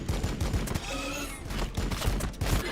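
Bolt rifles fire in the video game Warhammer 40,000: Battlesector, rapid clattering volleys of gunshots in quick bursts, moderately loud against a game backdrop.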